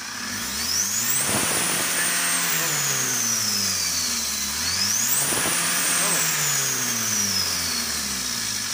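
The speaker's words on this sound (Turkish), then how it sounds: "Tam gaz." A 2.2-litre turbocharged Opel Jeep engine with a sooted-up engine and turbo manifold is revved hard at full throttle twice, each loud rise whining upward to a peak before falling back, with the rough engine drone continuing throughout.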